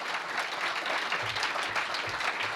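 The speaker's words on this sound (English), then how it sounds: "Another massive round of applause, please, for the Minister and Mary's committee." Audience at a formal awards ceremony giving a sustained round of applause, a dense, even clapping texture from a crowd heard at moderate distance, with a few low bumps.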